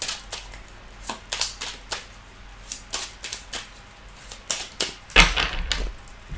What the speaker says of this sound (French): Je vais remélanger les cartes